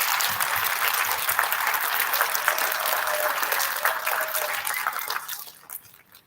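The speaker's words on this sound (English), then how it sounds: "Can we give Mrs. Trito a big round of applause?" Audience at an elementary school student recognition ceremony gives a big round of applause, dense sustained clapping from a crowd that fades away toward the end.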